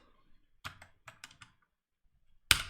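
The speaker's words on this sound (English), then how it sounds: "I hate this keyboard because I'm switching between the arrow keys and the backslash" Bursts of computer-keyboard typing, a quick cluster of crisp key clicks followed by a pause and one sharp final keystroke, close and alone with no talk.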